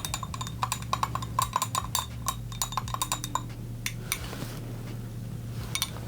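Perfume ingredients being mixed in a container, a quick rhythmic series of light clinks and taps of a utensil against the vessel, close and steady, easing into quieter scraping near the end.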